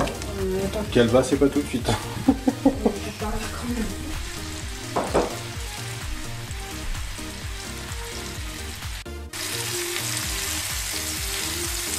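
Apples frying in melted Normandy butter for a Normandy apple tart, a steady close sizzle with stirring clatters early on and people talking over it.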